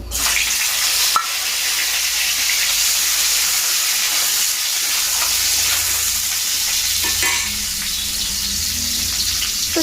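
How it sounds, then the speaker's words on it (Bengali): Sliced pointed gourd frying in hot oil in a pan gives a steady, loud, close sizzle that fills the clip, with an occasional clink or stir and no talking. "কড়াইতে তেল অ্যাড করলাম তো ডালে তেল দেওয়ার আগে আমি ভাবছি পটলটা ভেজে নেব"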